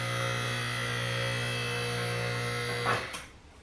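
The hydraulic pump of a QuickJack car lift gives a steady, even electric whine for a few seconds, then cuts off abruptly, leaving quiet.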